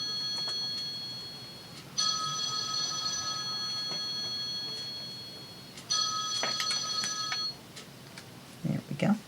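A telephone rings with two long electronic trills, each about a second and a half, separated by a pause, over a quiet room; a few faint knocks and handling sounds follow at the end.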